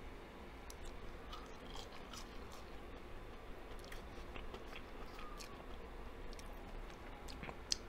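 Crispy frozen fries from a fried-chicken restaurant being bitten and chewed close to the mic, with soft irregular crunches and mouth sounds repeating steadily against a quiet background, no talking.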